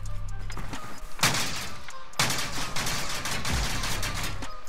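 Gunfire in Call of Duty: Modern Warfare Warzone, with bursts of close, loud shots in two dense clusters over a low rumble of the game's background.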